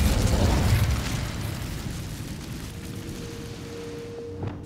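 An Incendio fire spell cast in the video game Hogwarts Legacy bursts out loud and full at the start, then trails off into a long, rumbling fade with a faint ringing tone near the end.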